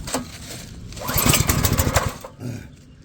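A pressure washer's small gas engine sputters on choke during a cold start, an uneven bursty roar that surges mid-clip and then falters, fairly close.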